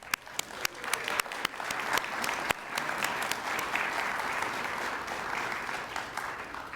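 Award ceremony audience applauding, opening with sharp individual claps that thicken into steady, moderately loud applause from a crowded room, sustained to the end.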